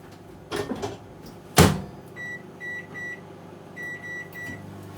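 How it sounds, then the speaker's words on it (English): A microwave oven running with a Tupperware Micro Pro Grill inside, a low steady hum with a couple of soft knocks and a sharp clunk near the start, followed by repeated short electronic beeps from the control panel. "I'm going to pop that into my oven microwave oven."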